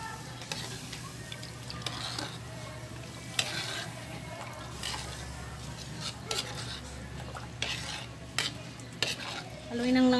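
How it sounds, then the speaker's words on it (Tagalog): A spoon stirs thickening white sauce with flour in a pan for no-bake macaroni, giving soft scraping and gentle sizzling with scattered utensil knocks, moderately close and fairly quiet. "Haluin lang haluin."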